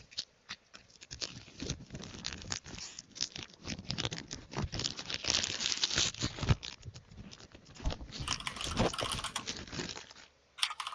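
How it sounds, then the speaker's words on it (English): Steady rapid clacking of mechanical keyboard typing runs throughout, close and fairly loud, mixed with crinkling packaging handling and small knocks, with no talking. "I enjoy hearing the mechanical keyboard sounds in the background."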